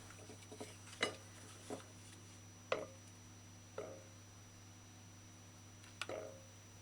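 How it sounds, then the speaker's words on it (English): Spoon stirring a thick soursop lime drink in a bowl, producing several sparse, faint clinks against the bowl over a low steady hum. "Stir in drink until you feel no more sugar grain on the bottom in the bowl."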